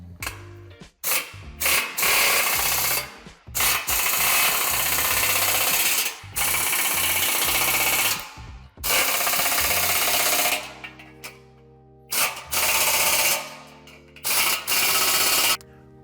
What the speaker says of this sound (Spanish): Una vez que hemos colocado todos los tornillos, procederemos a apretarlo.